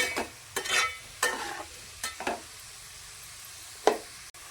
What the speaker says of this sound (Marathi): याला हलवून घ्यायचे कांद्याला, लाल जर कांदा होऊन द्यायचा एकदम